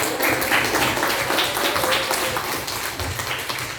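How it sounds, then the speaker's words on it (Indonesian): Students in a classroom clap together for their class groups, producing a dense, steady patter of applause that fills the room for a few seconds with no talking over it. "Beri aplaus tepuk tangan untuk semua kelompok kelas."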